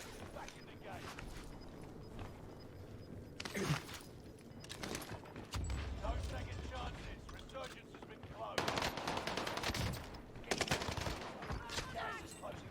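Gunfire in Call of Duty Warzone: several bursts of automatic rifle fire and single shots crackle through an online match, with quieter movement noise between volleys.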